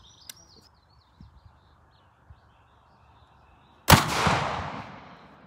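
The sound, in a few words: rifle gunshot, .300 Blackout into ballistic gel block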